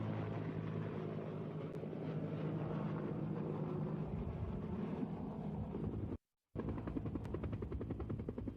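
A US Air Force C-130 cargo plane in flight gives a loud, steady engine drone with rushing wind noise, continuous apart from one brief cut to silence.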